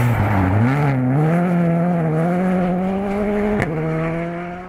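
A Skoda Fabia rally car at the Arctic Lapland Rally roars past with a loud engine note that climbs and shifts through gears, then fades slightly as it moves away.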